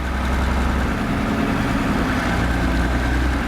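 A GAZ-66 diesel truck idles with a steady, rumbling drone, heard close and loud throughout on an off-road outing with other vehicles.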